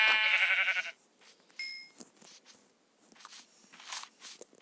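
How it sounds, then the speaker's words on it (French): Sheep bleats in a Minecraft-style block-building game, one loud harmonic bleat at the start followed by quieter game sounds and faint footsteps. "Oh, petit mouton."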